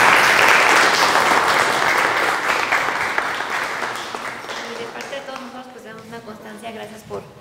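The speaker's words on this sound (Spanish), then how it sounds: "Un aplauso para Yolanda." An audience applauds a seismology speaker after a talk on earthquakes, a loud, full burst of clapping that gradually fades as voices begin speaking over the tail.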